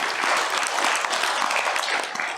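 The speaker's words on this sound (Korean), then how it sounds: "다시 한번 박수를 보내주시죠." Audience at a Buddhist seminar gives steady, dense applause, a continuous wash of many hands clapping at even loudness throughout, with no talk over it.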